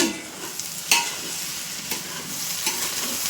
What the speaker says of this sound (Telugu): అటు ఇటు కలుపుతుందండి కింద పైకి పైది కిందకి